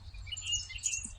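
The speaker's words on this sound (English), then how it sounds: "So I'm going to turn this around and let you see the birds coming down." Wild birds chirp and tweet in a busy cluster near a feeder, bright overlapping calls at moderate distance over a low steady outdoor rumble.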